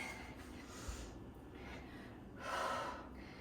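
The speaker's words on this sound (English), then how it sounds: "Breathe." Heavy, close breathing during a dumbbell HIIT workout, with rough gasping inhales and exhales rising to a stronger breath near the end, quiet and alone.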